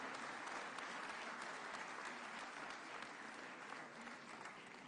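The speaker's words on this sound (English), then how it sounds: "ladies and gentlemen, another hearty, warm clap for Sir Mo Ibrahim" A large audience claps steadily for the president of Kenya at a formal event, a dense, even wash of applause heard faintly from a distance with no voices over it.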